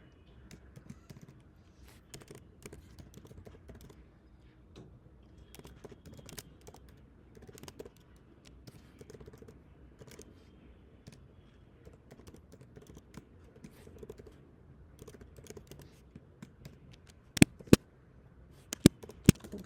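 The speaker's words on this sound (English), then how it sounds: "So now I'm going to type the profile ID." Typing on a computer keyboard, a run of quiet, close key clicks tapping irregularly throughout, with a few sharper louder taps near the end.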